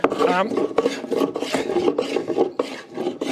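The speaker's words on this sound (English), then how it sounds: "I'll run the plane and the spoke shave over" Repeated rasping strokes of a hand plane and spokeshave shaving an oak bowl, a quick rhythmic series of scraping passes close by.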